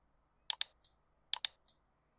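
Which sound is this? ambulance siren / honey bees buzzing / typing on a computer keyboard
typing on a computer keyboard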